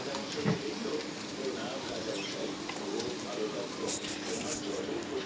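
Domestic pigeons, including a newly arrived bird, coo softly while they feed. The low, murmuring coos sit under a steady background hiss, with a few brief higher chirps near the end.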